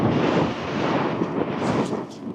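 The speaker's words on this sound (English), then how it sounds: "it's just a little bit windy" Strong wind blows on a coastal path, roaring and buffeting the microphone in a constant, loud rush with gusty swells and no other sounds.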